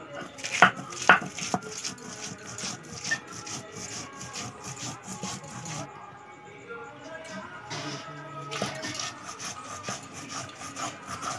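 Mustard, poppy seeds and green chilli ground by hand on a flat stone slab with a grinding stone, giving steady rhythmic rasping and scraping strokes, loud and close, with brief pauses.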